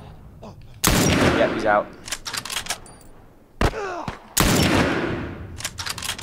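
Gunfire in The Last of Us video game rings out as loud, sharp shots in separate bursts, with a player's voice talking briefly between them.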